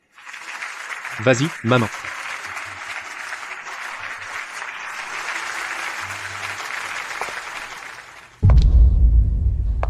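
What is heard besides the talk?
audience applause at a birthday party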